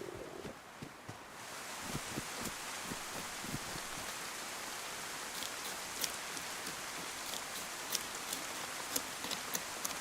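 Rain in the DayZ survival game falls steadily as a broad, even hiss with scattered patters and drips, moderately soft and continuous with no voices.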